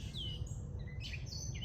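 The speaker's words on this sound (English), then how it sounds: "I hope this gets picked up in my video, all this bird chatter" Several birds chirp and tweet outdoors, bright overlapping calls over a steady low rumble of background noise, moderately near and fairly faint.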